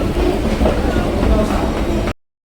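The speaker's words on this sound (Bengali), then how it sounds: "এই যে এটা হচ্ছে মেট্রো স্টেশন, আর আমি এখন মেট্রো স্টেশনের ভিতরে যাচ্ছি, ঢুকছি" Train rumbling through a metro station in Madrid, a loud, steady rolling roar with clattering wheels, cutting off abruptly near the end.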